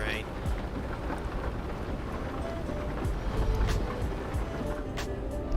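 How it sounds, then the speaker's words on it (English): Steady rain hisses and drums on a truck cab while driving in the video game Euro Truck Simulator 2, a dense, constant wash of noise with faint engine rumble underneath. "I have to slow it down so much sooner in the rain."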